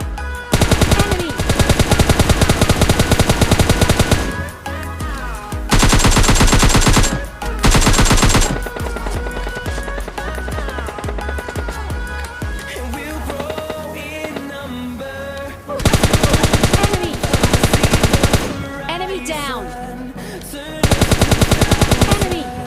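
Loud bursts of automatic gunfire from the PUBG Lite battle royale game, several long sustained volleys separated by brief lulls with scattered single shots and in-game effects between them.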